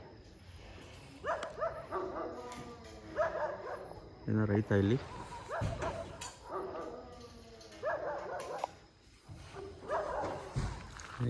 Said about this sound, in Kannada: ಯಾಕೋ ನಾಯಿಗಳು ಬಗಳ್ತಾ ಇದ್ದಾವೆ ಆ ಕಡೆ ಏನಂತ ಗೊತ್ತಿಲ್ಲ ಸಿಕ್ಕಾಪಟ್ಟೆ ಬೊಗಳ್ತಾ ಇದ್ವು